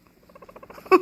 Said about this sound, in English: And also when he purrs, it is like he's laughing